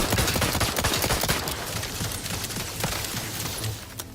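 Gunfire in The Outer Worlds 2, a dense run of rapid shots that thins and softens toward the end, loud and continuous.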